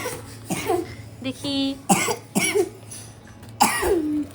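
A child coughs several times in short bursts at a home birthday gathering, close by, with brief speech between the coughs.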